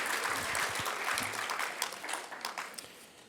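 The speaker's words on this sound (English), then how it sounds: "Another round of applause for Annie." A round of applause from an audience at a regional health network's annual immunisation update, honouring a presenter, with dense clapping that thins and fades over a few seconds.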